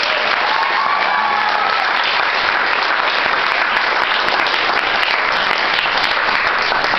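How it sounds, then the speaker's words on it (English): An audience breaks into loud, sustained applause in a hall, dense continuous clapping that holds steady for about seven seconds with no talk over it. "I just give a round of applause to Brittany."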